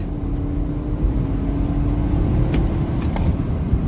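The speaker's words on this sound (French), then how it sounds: "on est sur du sec et en première, deuxième, ça patine" A BMW diesel saloon, an F30 330d, drones steadily as its nearly new tyres spin on dry road in first and second gear, a constant loud low engine and road roar with faint high tyre squeals near the end.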